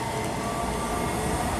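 A train passes at Linlithgow station in Scotland with a loud, steady rumble and whine, close and continuous, with no talking.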